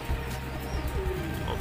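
A khaki female local pigeon coos faintly, low soft murmuring repeated through a quiet, slightly noisy background.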